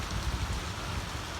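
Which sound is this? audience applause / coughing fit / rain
rain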